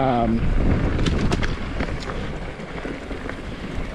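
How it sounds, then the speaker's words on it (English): Wind buffets the microphone with a steady, rumbling roar on a mountain bike ride in the Sierra Buttes near Downieville, with a voice speaking faintly underneath. "I turned on wind reduction because it's windy"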